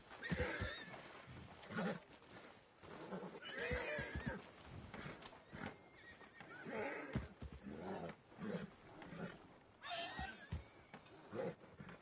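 A horse in the Red Dead Redemption 2 video game neighs and whinnies repeatedly, the loud snorting calls rising and falling in uneven bursts across the whole stretch, with no talking over them.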